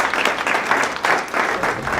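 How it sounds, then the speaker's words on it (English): Dense, steady audience applause for college presidents at a gathering on Northern Colorado public colleges, loud and continuous for the whole stretch with no voices over it. "first I think we should give them a round of applause"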